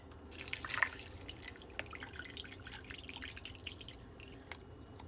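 Water trickles and splashes into a crock pot in small uneven pours and drips, fairly quiet and close, with no talking.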